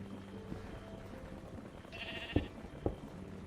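A sheep in a video game bleats amid a busy game soundscape, with a couple of sharp clicks or knocks just after the brief bleat; fairly quiet overall.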